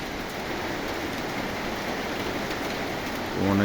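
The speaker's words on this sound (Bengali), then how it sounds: "হালকা বৃষ্টি হচ্ছে" Light morning rain falls under gusty stormy wind on an overcast day, a dense steady hiss of drops and air that holds evenly throughout, close and fairly loud, with no voices.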